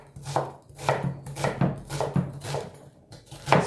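A knife chops an onion on a chopping board in a steady series of crisp taps, about eight close cuts in under four seconds, with no talking.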